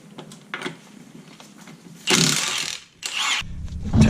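Ratchet clicking and a few louder mechanical bursts as lug nuts come off the front wheel of a C5 Corvette during a brake job, close and fairly loud with no talking.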